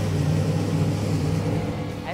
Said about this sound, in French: Le moteur est vraiment agressif.